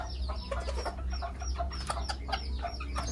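A young rooster calling hens with soft, rapid clucking and chuckling notes, close by and repeated throughout, over a low background hum.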